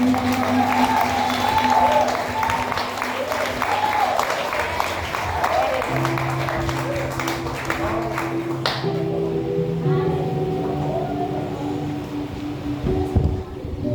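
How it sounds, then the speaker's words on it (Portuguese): A church congregation applauds during a worship service, a steady wash of clapping with sustained organ or keyboard tones beneath and voices mixed in, holding loud and even throughout. "E a igreja aplaude a Jesus."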